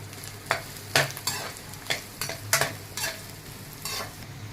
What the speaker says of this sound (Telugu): కళాయిలోనే కొంచెం ఆయిల్ వేసుకొని వేరుశనగ నూనె, ఈ అల్లం ఫ్రై చేసుకోవాలి బాగా.